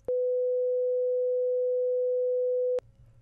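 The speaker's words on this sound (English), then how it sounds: "As an example, here is a 500 Hz sine wave." A 500 Hz sine wave test tone, a single pure steady pitch held loud and unbroken for nearly three seconds, starting and stopping abruptly, followed by faint low noise.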